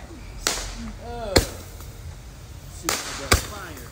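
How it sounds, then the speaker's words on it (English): Fireworks at a July 4th street gathering, with sharp cracking bangs in two quick pairs close by and whistling, crackling tails between them, while voices are heard faintly in the background. "Firework."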